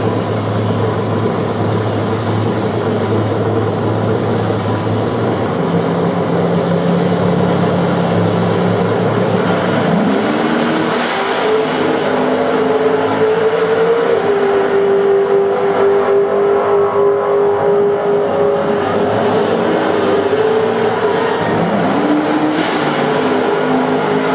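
A fast Lingenfelter-built car's engine runs loud and steady, then revs up around the midpoint and holds a high, sustained whine with rising and falling pitch, with no talking.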